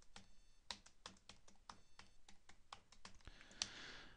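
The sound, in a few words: typing on a computer keyboard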